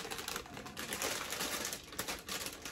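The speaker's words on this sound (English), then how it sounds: "I'm going to cut my Brussels sprouts." Knife chopping Brussels sprouts on a board, rapid close crisp cuts and rustling leaves with no talking.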